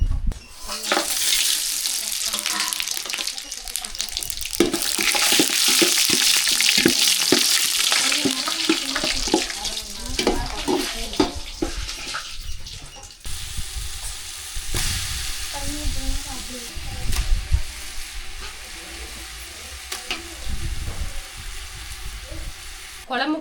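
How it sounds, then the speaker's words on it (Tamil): Spices are tempered in hot oil in a pot for a country chicken curry, giving a loud crackling sizzle with stirring, then a quieter steady frying hiss; a voice talks in the background. "இப்போ நான் குழம்பு தாளிக்க போகிறேன்"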